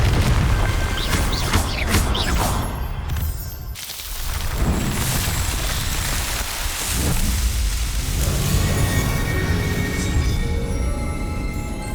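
A Confringo explosive spell from Hogwarts Legacy bursts with a deep boom, followed by crackling, rumbling debris and fiery noise that swells and fades over several seconds, with no voice.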